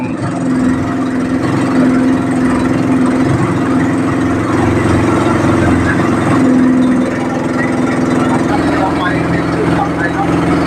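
A raft or tour boat's engine drones steadily and loudly above the Kiew Lom dam reservoir in Lampang, Thailand, a constant mid-pitched hum with no pauses, close by for the whole stretch.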